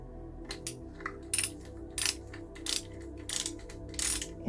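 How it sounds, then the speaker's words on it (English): Torque wrench ratcheting by hand on engine bolts of a Reliant Supervan short block, sharp metallic clicks in repeated bursts roughly every half second over a low background hum, close up. "Try and hold the end of the torque wrench, because then you get the correct torque."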